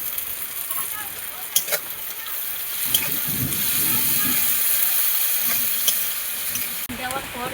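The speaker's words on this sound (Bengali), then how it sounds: "দেওয়ার পর একটু নাড়াচাড়া করে ভেজে নেব এরকম করে।" Chopped onions and sesame paste sizzle and hiss in hot oil in a pan, with steady frying noise and occasional scraping stir strokes, close and continuous throughout.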